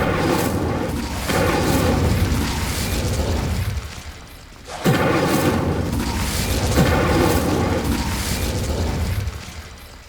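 Incendio fire spell cast in Hogwarts Legacy, heard as two loud, booming whooshes of burning, one at the start and one just before midway, with a rumbling sustained roar between them and no talking.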